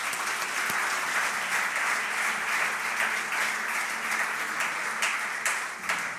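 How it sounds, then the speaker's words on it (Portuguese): Church congregation applauding loudly for Jesus, dense sustained clapping that holds steady for several seconds. "Aplaudam forte a Jesus."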